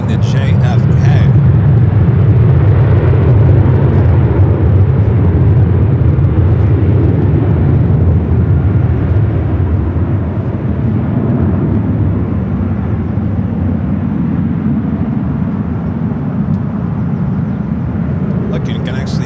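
A Boeing 767 airliner flies over LAX, its low, broad jet roar rumbling steadily and loudly throughout while people talk over it.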